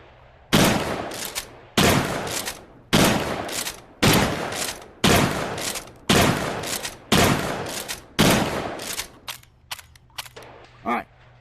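A shotgun firing slugs in a VR firearms game booms eight times at an even pace of about one shot every 1.3 seconds, each loud blast trailing off, followed by a few quicker mechanical clacks.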